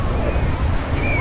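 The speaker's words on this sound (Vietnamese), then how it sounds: "Nó lâu lâu cái là có những cái cơn sóng lớn lắm." Large ocean waves surging at Vung Tau beach, a loud continuous rumbling wash of surf with wind buffeting the microphone.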